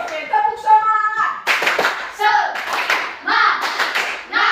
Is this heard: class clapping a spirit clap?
yes